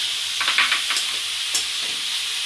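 Cabbage, tomato, capsicum and beetroot sauté in a pan over medium flame for a veg franky filling: a steady bright sizzle with a few scraping stirs near the start, no talking.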